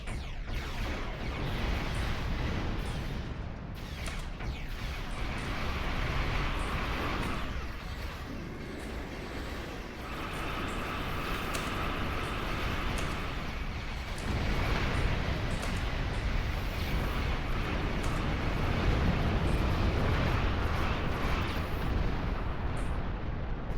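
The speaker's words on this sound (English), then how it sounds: "A Talis warbird is escaping." A Talis warbird spaceship escapes in a video game, heard as a dense, continuous roaring rumble with explosive bursts and crackle throughout, loud and unbroken for over twenty seconds.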